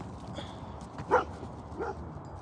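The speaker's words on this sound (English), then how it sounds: "There's another dog. German Shepherd." A German Shepherd outdoors gives two short, moderately distant barks, the first stronger, over a low steady outdoor background.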